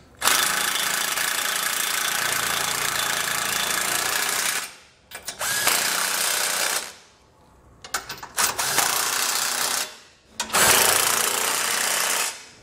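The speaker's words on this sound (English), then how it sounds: "we can grab a 19 millimeter socket and snug it all down." Hitch hardware being snugged down with a 19 mm socket, likely on an impact tool, while installing a Curt trailer hitch receiver on a 2020 Nissan NV: three loud, sustained mechanical whirring bursts separated by short pauses, close up, with no talking.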